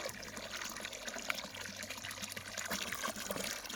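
Water pouring steadily into a large container, a continuous splashing rush with some gurgling, moderately close and without talk.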